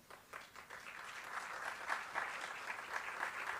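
Audience applause welcoming a speaker at an academic talk on public administration, a soft and fairly distant wash of clapping that builds up and holds steady throughout.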